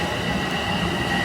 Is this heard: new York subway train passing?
yes